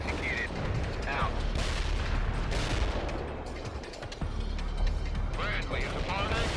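Artillery strike in the World in Conflict battle game, a dense rumble of explosions and gunfire under radio-style voices, loud and continuous.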